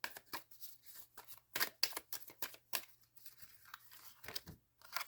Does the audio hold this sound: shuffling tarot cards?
yes